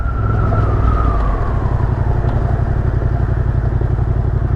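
Big bike motorcycle with a loud aftermarket exhaust idling steadily in Khon Kaen, a deep rumbling throb running continuously up close with a slowly drifting higher engine tone.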